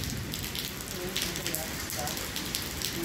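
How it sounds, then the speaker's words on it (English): Steady rain falls in Abaco, a dense, even hiss of drops on surfaces that continues without a break throughout. "Plenty rain."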